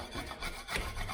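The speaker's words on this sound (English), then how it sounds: "First up, we're just going to use this scraper blade." A scraper blade scrapes rough edges off wood in a short, rough rasping stroke, close and continuous for about a second.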